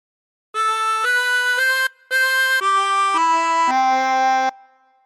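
A chromatic harmonica plays a short phrase of the Star Spangled Banner: seven close-miked reedy notes, the first three quick, a brief breath gap, then steadier descending notes with the last held longest, no voices.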